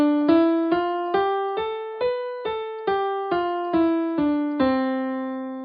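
A white-note scale from C up to B plays on a software instrument in Ableton, eight even, distinct notes stepping upward one after another, each struck cleanly and decaying before the next, with no voices.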